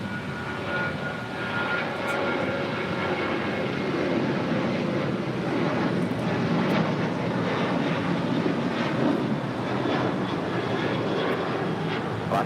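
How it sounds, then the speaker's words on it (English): An American Airlines Boeing 737-800 takes off from LAX bound for Phoenix, its jet engines producing a sustained, powerful roar that stays loud and steady across the whole stretch with no talking. "This is American Airlines 335 taking off to Phoenix, Arizona on the 737-800."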